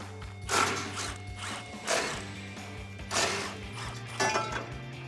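Ratchet with a 15mm socket backing out front bumper frame bolts on a 2019-2020 Chevrolet Silverado 1500, giving several separate bursts of close ratcheting clicks over a steady background hum.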